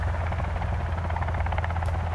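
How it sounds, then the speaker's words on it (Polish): A helicopter flies overhead in the survival game Sons of the Forest, its rotor producing a steady, loud, pulsing low thump with a constant engine drone throughout. "Ty, helikopter, helikopter, słyszysz?"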